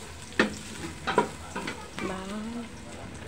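Onions are stirred in a hot pan for a Filipino mung bean dish with bitter melon leaves, a soft frying hiss under a few scraping utensil knocks and brief speech.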